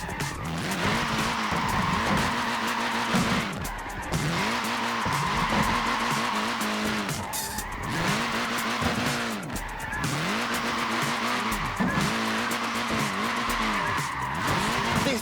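A little front-wheel-drive Mini with a short wheelbase slides and skids in Forza Horizon 4, its engine buzzing and revving in repeated cycles under continuous tyre squeal, loud and close, with brief talk.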